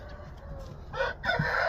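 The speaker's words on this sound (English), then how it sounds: "this is another 6-month stag," A six-month-old stag rooster of white dragon colouring, a show bird of game breed, crows close by in two loud bursts, with no talk around it.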